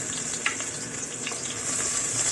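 Garlic frying in hot oil in a pan at home, a steady close sizzle with a few brief louder pops and crackles over about two seconds, with no talking.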